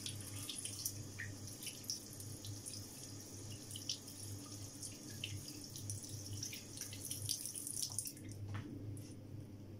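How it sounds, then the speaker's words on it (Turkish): Tap water runs into a kitchen sink while trout is washed, a steady close faucet stream with intermittent splashes and clatter from handling the fish. "Şöyle bir yıkayayım."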